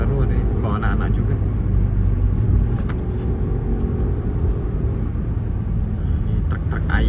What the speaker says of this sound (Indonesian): Ini truk ayam, truk ayam, truk ayam.